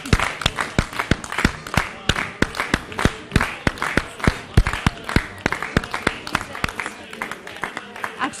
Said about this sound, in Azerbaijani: Firuzə xanımı bir ürəkdən alqışlayaq.